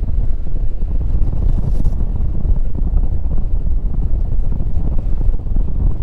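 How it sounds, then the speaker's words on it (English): Strong wind buffets a small fishing boat out on the water while trolling for salmon, a steady loud rumble with gusty noise across the microphone and no talking. "it's getting a bit windy out here, so we're actually gonna head in"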